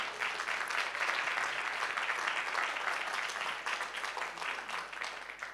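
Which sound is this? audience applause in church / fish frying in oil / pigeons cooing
audience applause in church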